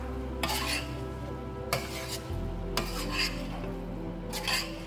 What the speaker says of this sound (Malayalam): എന്നിട്ട് നമുക്ക് നന്നായിട്ടൊന്ന് ഇളക്കി കൊടുക്കാം.